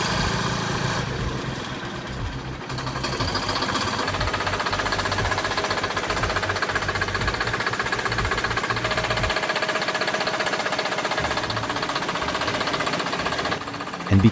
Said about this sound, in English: because of that whine, not everyone likes Detroit two-strokes